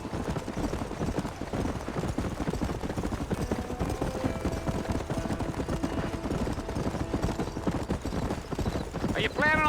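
A horse gallops in the Red Dead Redemption video game, its hooves pounding in a continuous fast rhythm under a game soundtrack, with a brief whinny near the end.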